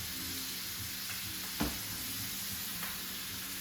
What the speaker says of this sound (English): get a nice sear on it